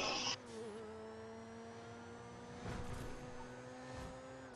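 A car in GTA Online drives with a steady engine hum, revving up briefly partway through, heard fairly quietly without voices.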